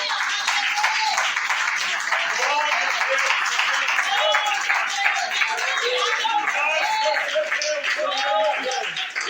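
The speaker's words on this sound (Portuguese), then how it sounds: "glorifica a Deus com palmas para Jesus" A church congregation clapping in praise to Jesus, sustained crowd applause filling the room while voices sing or call out over the top throughout.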